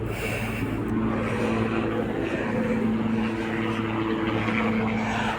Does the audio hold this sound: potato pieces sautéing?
no